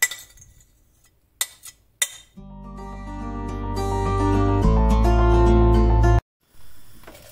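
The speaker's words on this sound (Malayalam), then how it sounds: "നമ്മൾ എടുത്തു വെച്ചിരിക്കുന്ന ക്രീം ചീസും അതുപോലെ നമ്മൾ എടുത്തു വെച്ചിരിക്കുന്ന യോഗർട്ടും കൂടെ മിക്സ് ചെയ്തിട്ട് നമുക്ക് തന്നെ ഒന്ന് ബീറ്റ് ചെയ്ത് നല്ലതുപോലെ ഒന്ന് ബീറ്റ് ചെയ്തെടുക്കാം" Cream cheese and yogurt being beaten together in a bowl: a few clinks against the bowl, then a steady whirring motor hum that rises in pitch and intensity before cutting off abruptly.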